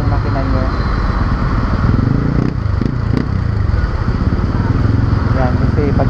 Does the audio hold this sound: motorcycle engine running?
yes